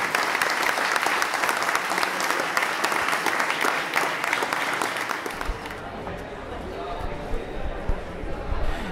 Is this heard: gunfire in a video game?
no